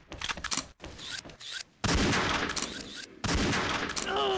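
Rapid bursts of gunfire in a Thai deathmatch round of the online shooter XSHOT, using an old sniper rifle among other weapons; sharp cracks open the clip, then dense sustained volleys fill most of it, loud and close.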